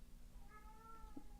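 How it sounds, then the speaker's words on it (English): A cat meowing from outside a closed room, one faint, distant drawn-out meow over a low background hum. "can you hear the cat?"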